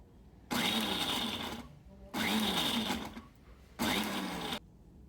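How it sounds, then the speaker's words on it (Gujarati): A kitchen mixer grinder pulsed three times to coarsely crush carrots and corn, each burst a loud whirring buzz lasting about a second with short quiet gaps between. "ફક્ત 2 થી 3 વખત મિક્સરના બટનને પલ્સ મોડ પર ફેરવીને ક્રશ કરવાનું છે"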